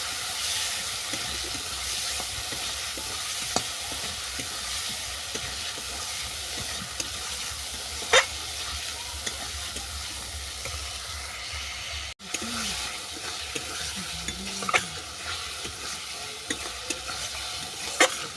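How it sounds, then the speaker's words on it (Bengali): A spice paste for chitol fish curry with potato and brinjal fries in oil, hissing and sizzling loudly and continuously while it is stirred with occasional scrapes and knocks, heard close up with a brief break partway through. "সমস্ত মশলা আমি ভালো করে কষিয়ে নেব।"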